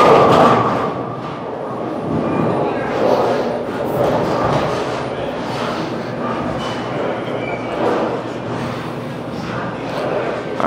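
Hammer Scorpion bowling ball rolling down a lane, a loud continuous rumbling roll with low thuds, heard in a bowling alley amid background voices.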